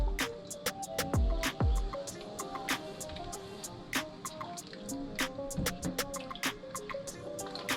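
A hat is stirred in a pot of hot Rit dye water, giving close, intermittent sloshing, drips and knocks against the container, with no voices.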